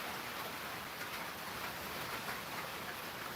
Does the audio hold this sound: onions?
no